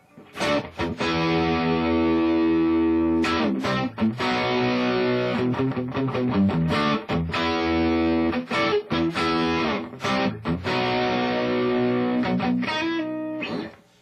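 Electric guitar played through a 1990s Hughes & Kettner ATTAX 80 amplifier on its lead channel, gain set low, using the bridge pickup: mildly distorted chords and single notes ring out with short pauses between phrases, loud and close, with no talking.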